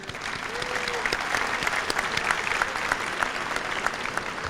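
Applause for seniors with perfect attendance at a 1993 high school senior academic recognition ceremony; a steady crowd clapping fills the room for the full stretch, moderately loud.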